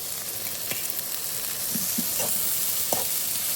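Prawns sizzle over low heat with onions and curry leaves in a pan, a dense continuous frying hiss with a few short spatula scrapes and taps, close and unaccompanied by speech.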